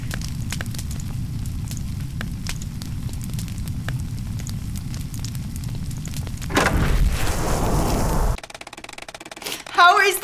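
Fire roars in Nancy Drew: Alibi in Ashes, a steady low rumbling crackle that swells louder partway through before cutting to sharper noises.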